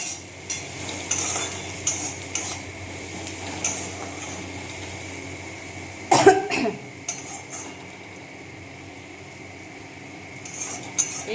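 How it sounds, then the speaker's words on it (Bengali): Lentil fritters (dal boras) fry in oil in a home kitchen, with a low continuous sizzle, occasional clinks of a utensil, and a brief louder clatter midway. "বড়াগুলো ভাজতে একটু সময় লাগবে, কেননা অনেকগুলো হবে তো ভাজা।"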